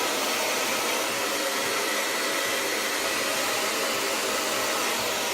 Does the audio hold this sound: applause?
no